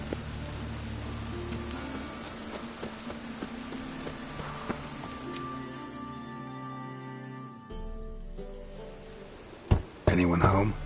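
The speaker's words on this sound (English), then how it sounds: "Rain again." Steady rain hisses across the whole scene in Skyrim, the open-world fantasy game on PS4 Pro, with scattered soft thumps and faint hoof-like clops beneath it; a sharper burst of sound cuts in near the end.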